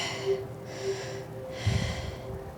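Deep yoga breathing for lower back pain: slow, audible breaths drawn in and pushed out through the mouth in a soft, airy rhythm. Three close breaths, each exhale longer than the last, with no talk.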